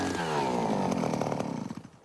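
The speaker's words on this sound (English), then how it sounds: "Every year, Dr. Fedorov and his team drill deep into the ground to analyze changes in the permafrost." A motorized drill bores into frozen permafrost ground in northern Yakutia, a loud, close, revving engine whine that holds steady and then winds down and sputters.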